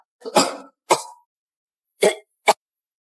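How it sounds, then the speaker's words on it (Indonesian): Four separate coughs, two in quick succession, a pause, then two more, the last short and sharp, close and fairly loud. "Jika dia batuk, itu berarti keadaannya semakin parah."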